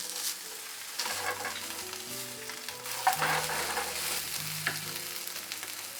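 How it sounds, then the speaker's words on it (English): Sandwiches frying in butter in a pan, a steady soft sizzle running under a melodic background music track of shifting low tones. "Put butter on top. Cook them from both the sides."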